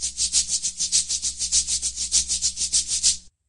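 Maracas shaken in a steady, rapid rhythm of bright rattling bursts, about six to seven per second, continuing evenly for roughly three seconds before stopping abruptly, heard alone as part of a children's musical instrument learning game.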